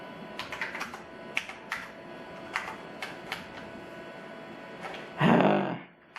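Keys clatter in scattered bursts on an NEC PC-H98 computer keyboard, a Japanese DOS workstation, then a louder, denser clatter near the end.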